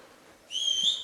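Audience at a live Hindi stage show whistling loudly in appreciation, a sustained shrill whistle rising out of low crowd noise partway through and holding steady to the end.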